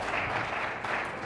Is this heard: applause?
yes